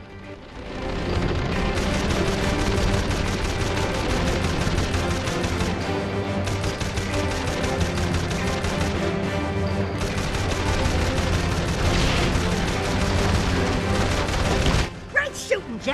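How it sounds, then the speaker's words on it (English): Mounted ship guns fire at sky pirates during a Jak 4: The Lost Frontier battle, a dense, sustained barrage of loud mechanical gunfire and booms over game music, ending with a few separate shots. "I think it's time we test the guns."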